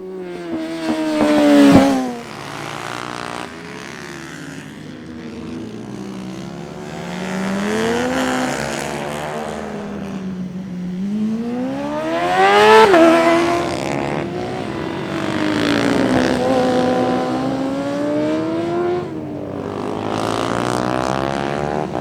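A Yamaha R6 supersport motorcycle laps a karting track, its high-revving engine rising and falling through repeated shifts and corners, swelling loudly as it passes near and easing off between bursts of acceleration.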